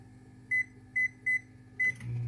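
A microwave oven heating coffee gives four short, loud beeps over its steady low hum, followed by a door or handling clunk.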